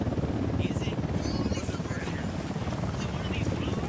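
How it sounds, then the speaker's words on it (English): Helicopter rotor noise from an enemy chopper passing overhead in the game Ghost Recon Wildlands, a steady loud thrum that fills the whole clip beneath a man's speech. "Helicopter overhead."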